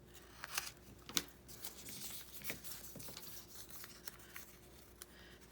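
Scissors snip through a paper page from a desktop calendar, a few crisp separate cuts at close range with quiet pauses between them, no talking.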